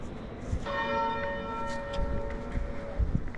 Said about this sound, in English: The famous 9:44 bell.